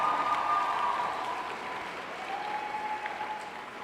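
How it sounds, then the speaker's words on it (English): Applause for teachers at a UWC Dilijan tenth-anniversary jubilee event: a broad crowd clapping that starts full and gradually thins and softens, with a faint sustained tone running underneath. "A round of applause, please."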